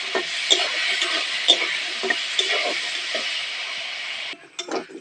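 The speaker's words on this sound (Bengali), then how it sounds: "একটু সামান্য পরিমাণে নুন দিয়ে দেবো, হলুদ গুঁড়ো দিয়ে দেবো, আলুটা একটু ভেজে নেবো।" Potato pieces with salt and turmeric fry in a pan, sizzling steadily at close range while a utensil stirs them with a few light scrapes and clinks, and the sizzle drops away near the end.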